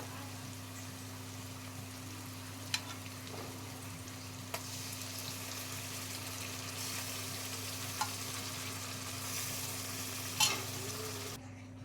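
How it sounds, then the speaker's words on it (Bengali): Boiled dal poured into a pan of fried spices for idli sambar and stirred, giving a steady low sizzle with faint scraping, a few sharp clicks of the spoon against the pan, and a brief splashy burst near the end. "এবার আমি যে ডালটা সেদ্ধ করে রেখেছিলাম সেই ডালটা ঢেলে দেব।"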